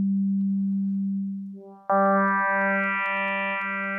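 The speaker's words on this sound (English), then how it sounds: "So with nothing, you'll just get a sine wave." A Thor synthesizer in Reason holds a pure sine tone, which dips briefly before a brighter, harmonically rich tone cuts in and sustains loudly.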